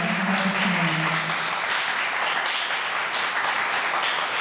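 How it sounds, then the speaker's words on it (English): A crowd applauds steadily and loudly, dense clapping filling the space throughout without any talking. "let's give a big round of applause for Dr. Weaver and Dr. Salmond."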